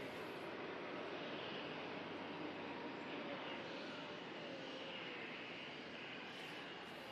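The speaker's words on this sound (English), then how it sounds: "3 heavies in a row about to leave us. First of which the biggest passenger carrying aircraft in the world." An Airbus A380 heavy airliner departs, heard as a distant, faint, steady jet engine roar that holds throughout with no talk.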